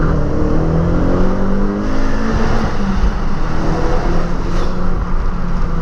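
Opel Corsa OPC with 230 hp accelerating hard, its engine revving loudly and steadily from up close, the front wheels struggling for grip, with rising and falling harmonic tones through the pull.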